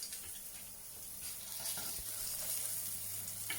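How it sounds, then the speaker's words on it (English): Burgers seasoned with onion, thyme and garlic sizzle in a pan of bacon fat, a steady close frying hiss with a few sharper crackles, no voices. "just going to sizzle them up."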